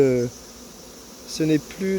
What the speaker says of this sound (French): Il y a tellement d'abeilles